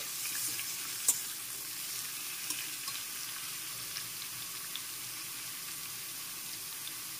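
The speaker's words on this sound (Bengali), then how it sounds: "এখন একটু ভালো করে ভেজে নিচ্ছি।" Steady, close sizzling of salted snake gourd and potato frying in a pan, with a single sharp clink early on and a few soft scrapes.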